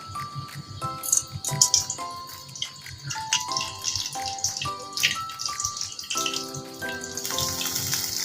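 Roughly one to one and a half cups of cooking oil poured into a pan for chicken kofta, a steady liquid pour heard close and fairly soft, with scattered clinks and rattles over it.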